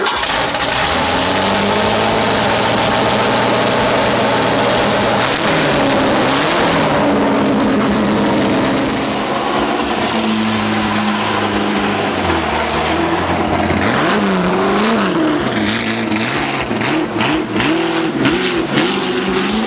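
A Ford GT40 race car engine fires up and revs loudly and close, with rising and falling throttle blips over a steady rumbling idle, no talk.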